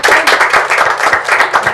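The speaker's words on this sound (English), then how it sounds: "Wow, clap for her." A group of people clapping together in a room, a dense steady stream of hand claps with loose rhythm, close and loud throughout.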